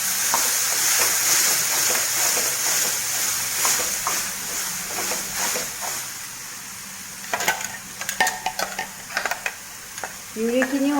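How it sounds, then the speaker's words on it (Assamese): Tomato puree frying in a pan with spices, a loud close sizzle and bubbling under repeated stirring scrapes, turning into choppier spatula knocks and scrapes toward the end. "পিউৰিখিনিও অকণমান ভাজি ল'ব লাগে, তেতিয়া কেঁচা বিলাহীৰ গোন্ধটো যাব।"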